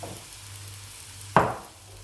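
Rice with vegetable broth powder stirred in olive oil in a pan, a quiet background sizzle with a single sharp scrape of the spoon.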